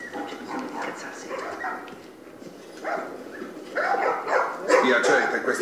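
Dogs bark in The Last of Us video game, with yips and whimpers that grow louder toward the end, mixed with people talking.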